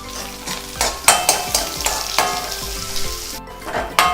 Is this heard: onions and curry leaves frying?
yes